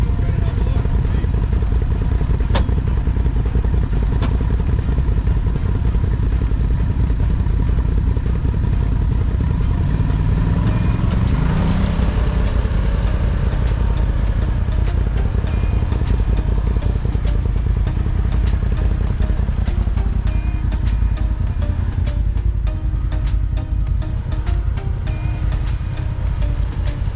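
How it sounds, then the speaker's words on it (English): Brand new machine driven over bumps, a loud constant engine drone with rattling clatter and occasional knocks layered over it throughout, heard close and unbroken. "the brand new machine's having some clunking sounds when he's going over bumps"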